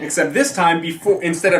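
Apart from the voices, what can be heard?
No distinct noise like a dog, phone or traffic.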